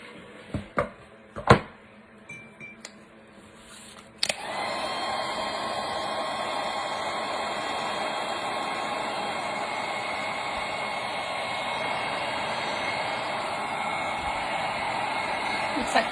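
A handheld hair dryer drying paint on an ornament switches on after a few soft knocks and taps, then blows a steady, close whooshing hum that runs without a break to the end.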